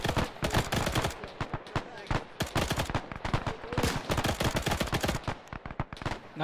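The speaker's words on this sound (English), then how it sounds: "There's a machine gun southeast." Dense machine gun fire rattles through the ShackTac video game battle, rapid overlapping bursts and shots continuing loudly and steadily throughout with no pauses.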